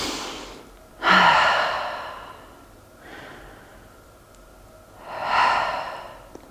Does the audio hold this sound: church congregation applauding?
no